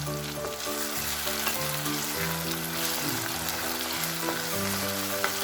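Tomatoes sauté in a pan for Tamil-style pirandai chutney, a steady close sizzle and fry running throughout with a faint low hum beneath, no voices.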